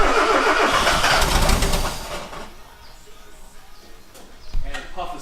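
A 1985 Mazda 929 engine cranks with a loud, broadband churn for about two seconds, then falls quiet, leaving faint rustles and a brief thump near the end, with no clear sustained idle catching.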